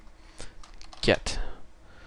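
Computer keyboard typing during Java coding, a few short bursts of key clicks, close and moderately loud, with a denser cluster of keystrokes near the middle and no speech over it.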